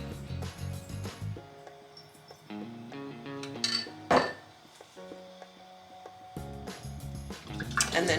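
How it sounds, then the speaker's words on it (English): A metal canning funnel is set onto a glass jar during water bath canning, giving light clinks and taps of metal on glass, with ringing tones and a few sharper knocks, close and fairly quiet. "here's the jar, and now I'm going to put the funnel on"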